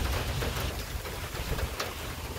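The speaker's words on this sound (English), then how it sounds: "she's beginning to rain again" Rain falls outdoors in a steady, moderately loud patter with a low rumbling undertone and a few sharper drop hits, without anyone speaking.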